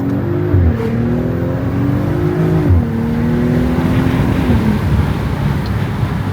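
A 2024 Audi SQ5 in stock form accelerates hard, its engine note climbing steadily in pitch with a brief drop at a gear change, loud and close from inside the cabin with road noise underneath.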